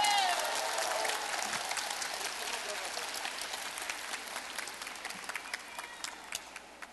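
A crowd at a presidential candidate's book launch event in Cheongju claps in a dense burst that gradually thins and fades, with some voices mixed in.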